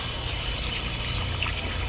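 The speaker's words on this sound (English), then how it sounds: "So big old cup of ice. Fill it up with some water." Water poured from a supermarket ice machine into a big cup of ice, a continuous close rushing splash and gurgle lasting the whole short moment.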